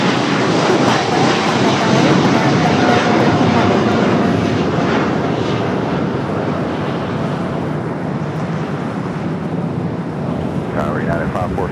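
An airliner takes off at LAX, its jet engines a loud, sustained roar with wind noise, while a voice talks over it.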